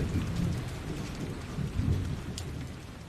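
Rain falls steadily on a surface while low thunder rumbles and rolls through it, the downpour softening toward the end with no one speaking.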